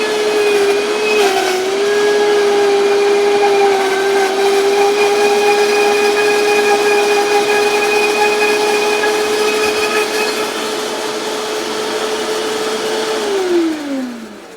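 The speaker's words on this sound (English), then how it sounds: "I'm going to turn on our little blender friend" Small kitchen blender whirring through raw zucchini pesto with avocado oil, a loud steady motor whine that holds its pitch for several seconds before spinning down at the end.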